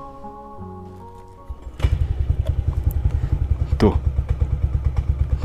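A Yamaha Aerox scooter bored up to 200cc fires up after a brief cranking whine, then settles into a loud, rapid, throbbing idle close by. A short spoken syllable comes just before it catches.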